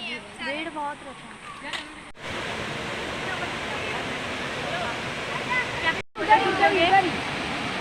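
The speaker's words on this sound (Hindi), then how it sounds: "लेकिन ये भी तो सिर्फ झरना ही बह रहा है।" A waterfall at Tungareshwar, Vasai, Maharashtra rushes in a steady, broadband roar, with people talking over it at the start and end.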